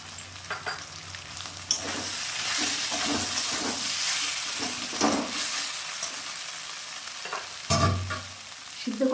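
Kashmiri chili powder, red chili powder and turmeric sizzling in hot oil in a pan for a Bengali banana-flower and prawn dish, a loud steady hiss with occasional stirring scrapes and knocks of a spoon.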